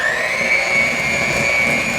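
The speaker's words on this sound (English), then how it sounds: "I like to use a mixer." Electric hand mixer beating pumpkin waffle batter, a steady close high-pitched motor whine running without a break and no voices.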